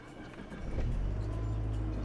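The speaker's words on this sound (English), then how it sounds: "You hear this thing start up." A 1986 Chrysler LeBaron engine cranks and catches, a low rumble rising about midway and then settling into a steady, close idle.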